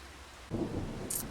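Rain with thunder in Farming Simulator 25 video game: a soft rain bed, then a low rumble of thunder rolling in partway through, with a brief higher crackle near the end.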